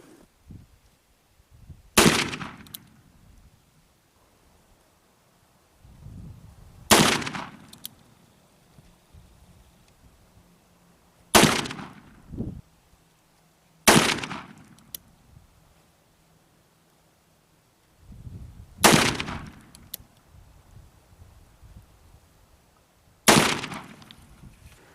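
An 1858 Remington Navy revolver fires six sharp, loud cracks spaced roughly every four to five seconds, each shot followed by a brief echo, with faint wind and handling noise between.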